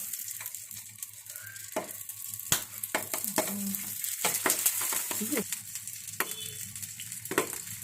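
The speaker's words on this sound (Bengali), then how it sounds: "একটা একটা করে তাওয়ার মধ্যে দিয়ে দেবো" Hilsa fish paturi parcels sizzle and fry steadily on a hot tawa, a continuous close crackle broken by sharp scraping and stirring clatters against the pan.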